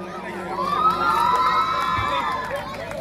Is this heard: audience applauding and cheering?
yes